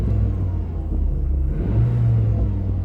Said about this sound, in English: let's hear about the engine sound.